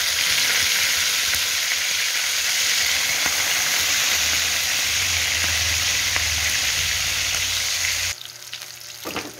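Fish fries in a hot pan with a steady, loud sizzle, joined by low stirring and bubbling as it is flipped to cook the other side, before the frying abruptly drops away near the end.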